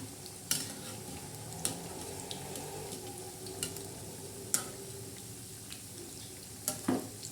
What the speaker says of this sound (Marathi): मस्त अशा हलवून घेणार आहोत मस्तपैकी हे तळत आहे